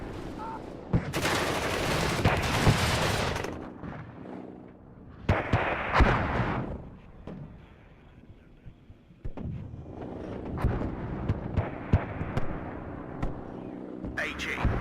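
Artillery fire booms in the WARNO war game, several loud, heavy bursts and rumbling volleys spread across the clip, mixed with other gunfire and voice chatter.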